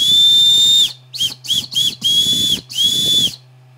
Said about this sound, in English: It's a little whistle.